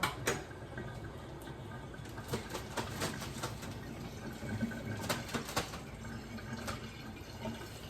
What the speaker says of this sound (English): Empty the water.